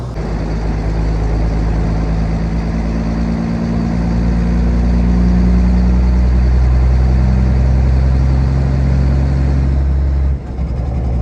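A 1957 Mack B61 twin-stick truck engine runs steadily after a downshift, a loud, deep diesel drone with a slight swell in revs before briefly dipping near the end, heard alone and up close.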